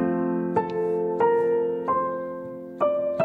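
Piano playing a theme from Up in an easy arrangement, the right hand striking melody octaves over sustained chords: four clear, evenly spaced struck notes ringing into one another, close and moderately loud, with no voices.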